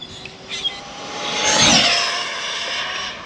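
An Arrma Limitless 16S RC car on a road speed run, its motor whining up into a loud rising roar as it passes close by around the midpoint, then fading off into the distance.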